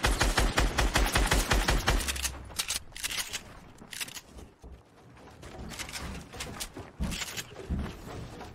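Rapid automatic gunfire from the video game Fortnite Battle Royale rattles off in a dense, fast burst, then gives way to scattered quieter shots and clicks amid game noise.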